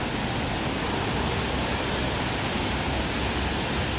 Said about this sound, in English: nice waterfall going there, which should be gushing pretty well today